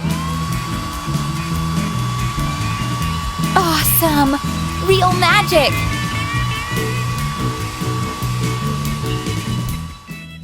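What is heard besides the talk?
blow dryer melting crayon shavings in pendant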